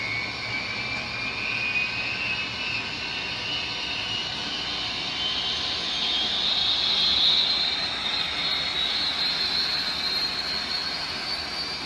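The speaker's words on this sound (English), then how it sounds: "you can definitely hear the whine of the turbine" Steady high-pitched turbine whine from a Scaletrains museum-quality Union Pacific gas turbine model locomotive, a continuous airy hum that swells slightly midway, heard alone without talk.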